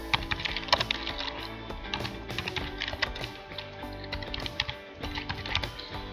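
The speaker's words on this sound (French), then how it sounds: "Là par exemple je tape mon nom" Computer keyboard typing with rapid, irregular clicking keystrokes, steady and close, while a name is entered into an Excel invoicing spreadsheet.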